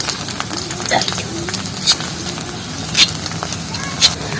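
Powdered neem leaves simmer in mustard oil over low heat, giving a steady soft sizzle and crackle with a few sharper spitting pops.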